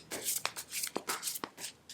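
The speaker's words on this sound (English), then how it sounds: "So I'm not gonna take it, but I'll shuffle again." A tarot card deck is shuffled by hand in a series of quick papery riffles and slaps, close and fairly soft, with no talking.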